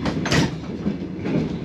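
Doors on an old Soviet-era train in Latvia, a short loud rattling slide and clunk heard close up over the rumble of the moving carriage.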